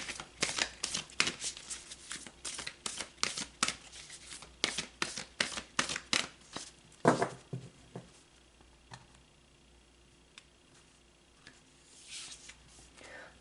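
Chakra oracle cards being shuffled in rapid bursts of close, crisp riffling for about eight seconds, then a quieter stretch with only a few soft card sounds.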